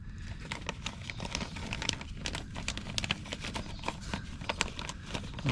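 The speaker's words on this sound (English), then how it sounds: "you're going to cover them with plastic bags" Plastic bags crinkling as they are pulled down over mulberry cuttings, a steady run of close, dry rustles and crackles lasting throughout with no talk.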